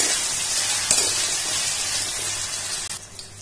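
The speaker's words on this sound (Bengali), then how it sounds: "আলুগুলোকে ভালো করে ভাজবো।" Potato pieces frying in a pan make a loud, dense, continuous sizzle with a sharp clatter near the start, easing slightly toward the end.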